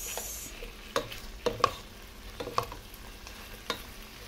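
Native chicken sinigang with tomato and fish sauce is stirred in a pot: a handful of spaced knocks and scrapes of the utensil over a low, steady simmering hiss, with no talking.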